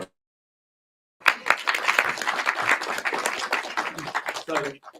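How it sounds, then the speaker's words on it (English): A round of applause at a tech demo night breaks out after a moment of silence, a dense burst of clapping from the audience with voices mixed in before it tapers off. "Could I get a round of applause?"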